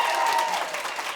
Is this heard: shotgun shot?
no